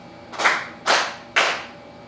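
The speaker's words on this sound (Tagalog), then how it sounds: "Bigyan ninyo ng 3 palakpak ang inyong mga sarili" Children clapping in unison three times in a classroom, three sharp evenly spaced claps, each one loud and distinct.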